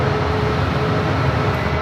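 A jet airliner taking off at San Francisco International Airport, a steady broadband engine roar filling the whole stretch at constant, fairly loud level with no talk over it.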